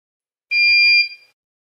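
A single high-pitched electronic beep from a NAS after its reset button is held with a needle, steady and clear, lasting about half a second before fading quickly into silence.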